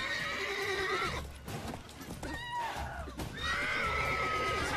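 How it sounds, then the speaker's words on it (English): A horse in The Witcher 3 video game neighs and whinnies loudly in repeated bursts, with clip-clopping hooves and scuffle noises of a bar fight around it. "Oh no, the horse!"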